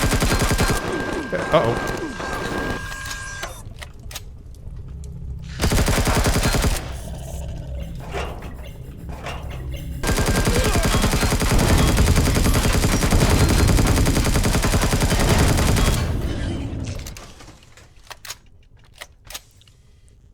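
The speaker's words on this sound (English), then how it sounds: "Have I mentioned I like my assault rifle?" Assault rifle fire in the sci-fi survival game Empyrion, rapid bursts of shots in dense stretches, the heaviest lasting several seconds near the end before dropping off, with someone speaking briefly early on.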